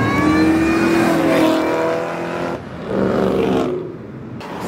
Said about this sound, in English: Rev it again, please.